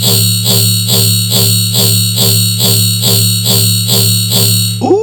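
Metallic riddim bass processed through a short linked delay with 60% feedback, churning out a harsh, ringing, distorted buzz that pulses in a steady rapid rhythm, loud and continuous, before a brief pitch-sweeping wobble at the end.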